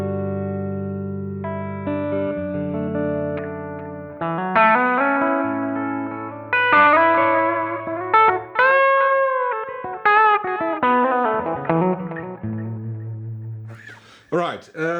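An electric guitar plays chords and single notes through a Boss RE-2 or Roland RE-201 Space Echo, soaked in tape echo and reverb, each note repeating and trailing off into a spacious wash.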